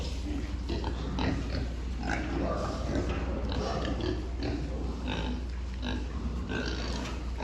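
Many Danish-genetics piglets grunting and squealing together in a dense, continuous din, close and loud, with a steady background rumble.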